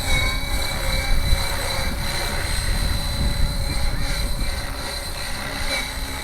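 A Gaui X5 radio-controlled helicopter flies nearby, with a steady high-pitched motor whine and the rhythmic chop of its rotor blades over a rumbling, wind-buffeted background, continuous throughout.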